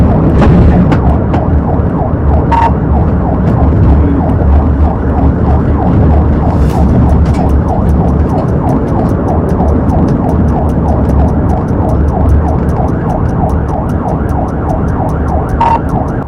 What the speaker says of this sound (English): As the sirens get louder, he panics.